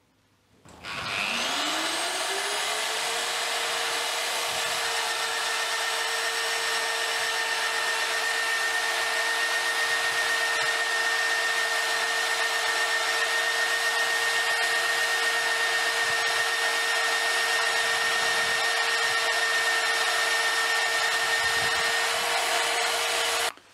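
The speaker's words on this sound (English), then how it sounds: "we're going to drill a steel beam for a home extension" An Evolution Evo Mag 42 magnetic drill spins up into a steady, loud whine, drilling a steel beam, and drones on continuously for over twenty seconds, then cuts off; no voices.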